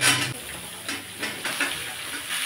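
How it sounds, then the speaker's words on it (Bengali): Potatoes, carrots and beans sizzle in hot oil in a pan for a Bengali vegetable curry seasoned with turmeric, a steady close hiss with soft bursts of crackle. "এগুলো একটু ভেজে নেব।"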